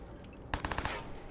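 Shotgun gunfire in the video game Watch Dogs: after a brief quiet lead-in, four or five loud blasts ring out in quick succession and then trail off into a fading tail.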